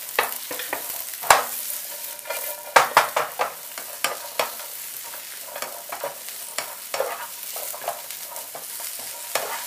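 Button mushrooms and onions stir-fried in a pan for chicken à la king, a steady sizzle broken by frequent sharp scrapes and clacks of the spatula, close and fairly loud, with no voices.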